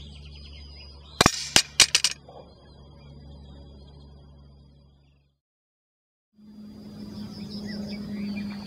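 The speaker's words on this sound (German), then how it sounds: "Danach gehe ich in den Anschlag und gebe den Schuss ab." Several sharp, quick cracks from an air rifle at field target shooting sound in close succession, followed by quiet and then a faint background hum, with no talking.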